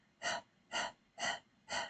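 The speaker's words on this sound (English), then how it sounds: "So we'll open our mouth and we'll do a panting just to kind of get familiar." Four evenly spaced open-mouthed panting breaths in a breathing exercise, each a short breathy rush of air, close and quiet with brief pauses between.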